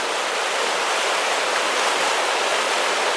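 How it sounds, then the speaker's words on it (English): Rapid creek water rushes past near a tiny house on an Easter morning, a loud, steady, broadband roar of flowing current close to the listener with no voices. "see there's a good bit of water and hear it moving."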